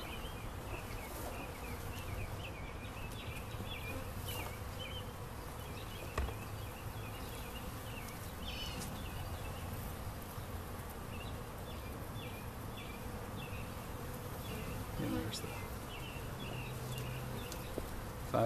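Honeybees buzzing around a hive trap-out in Richardson, Texas, where the colony's foragers circle a frame of eggs trying to get back home; a steady, soft insect drone fills the whole stretch with no talking.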